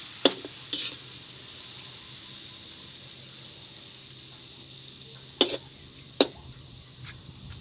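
Pork and yellow noodles stir-fried in a pan give a steady, faint sizzle under a few sharp utensil scrapes and clicks, with no talking.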